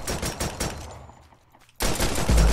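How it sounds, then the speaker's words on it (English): Bursts of automatic gunfire aimed at the player in XERA Survival: rapid rattling shots, a quieter lull, then heavy loud firing resuming close by. "I'm getting shot at."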